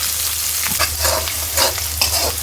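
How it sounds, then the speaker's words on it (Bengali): Katla fish pieces frying in hot oil with onion, green chili and bay leaf produce a loud continuous sizzle, with repeated bursts of stirring and spattering close by. "এখানে কাতল মাছগুলো ভেজে নিচ্ছে।"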